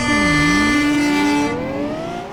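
Lamborghini Aventador cars racing in the Roblox game Greenville, a loud synthetic engine tone that dips, then climbs steadily in pitch as the car accelerates before fading slightly.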